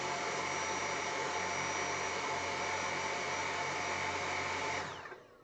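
A Dyson V7 Animal stick vacuum cleaner runs with a steady, even motor whine and airflow hiss, faint in level, then cuts off abruptly near the end and winds down.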